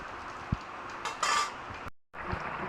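A pot of katla fish curry with potato and drumstick being lifted off a kitchen stove: a couple of clear metallic clinks and scrapes of the pan, close and fairly quiet, then a brief cut to silence.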